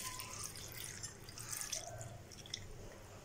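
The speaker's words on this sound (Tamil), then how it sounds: "இதில் ஒரு 300 ml தண்ணி விடணும்." About 300 ml of water pours into a pot, making a soft, quiet trickle and splash with faint drips, steady throughout without any voice.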